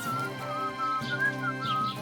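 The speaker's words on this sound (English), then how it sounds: "Do you find whistling like that fun?" A game character in Kingdom Come Deliverance II whistles a wavering, continuous tune over a soft ambient background, close and clear with no talking.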